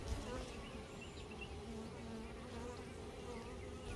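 A swarm of honey bees buzzing steadily and densely, a continuous close drone with no talk.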